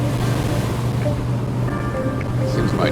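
Rough sea waves wash steadily around a sailboat in open water, a constant loud surging roar mixed with wind buffeting the microphone.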